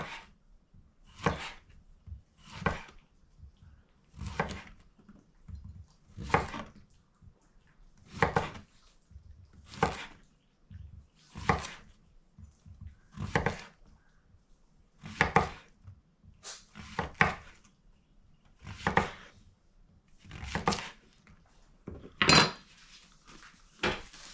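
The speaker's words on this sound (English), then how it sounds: "we're going to just cut it in rounds about 1/4 inch thick" A knife chops through yellow squash on a cutting board, slicing it into quarter-inch rounds in a steady run of about fourteen crisp, evenly spaced knocks. The cuts are close and clear, with no talk.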